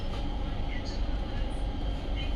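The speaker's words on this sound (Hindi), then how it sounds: "हमारी ट्रेन बिल्कुल टाइम पर खुल गई" Steady, loud rumble of a moving passenger train heard from on board, a dense continuous roar with faint high squeals and rattling and no distinct breaks.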